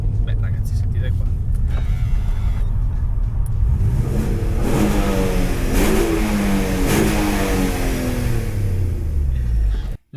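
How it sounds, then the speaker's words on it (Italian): A loud, close naturally aspirated engine revs hard, rising and falling in pitch through repeated sweeps before cutting off abruptly. The engine is known as the violin of Arese and powers a 250 hp front-wheel-drive sports car. "qui abbiamo un motore aspirato che veniva definito il violino di Arese"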